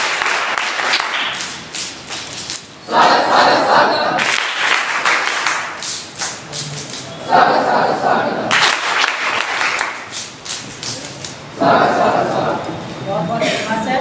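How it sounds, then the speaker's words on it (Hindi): Bursts of audience clapping greet guests at a scout initiation ceremony, coming in several loud waves of many hands, with someone talking over and between them. "स्वागत, ताली बजाएं"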